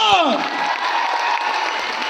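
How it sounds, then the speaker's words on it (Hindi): Loud applause from a large audience in a Delhi stadium hall, heard under a speaker's voice and a descending musical tone at the start, steady clapping carrying on to the end. "मास्टर राजीव कुमार सर, जोरदार तालियां।"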